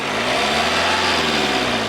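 Renault Duster K9K diesel engine held at a light rev, a loud, close and steady diesel drone with a gruff low hum and no talking.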